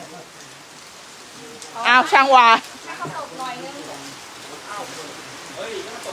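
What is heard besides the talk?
rain falling at a house repair site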